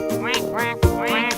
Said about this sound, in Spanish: el pato hace cuac